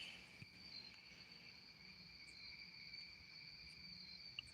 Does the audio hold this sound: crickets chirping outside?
yes